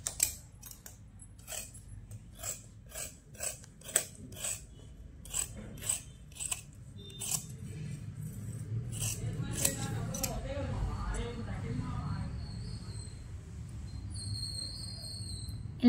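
Scissors snip repeatedly through an old saree being cut into a crop top, a steady run of sharp metallic chops, then softer rustling fabric and handling noise.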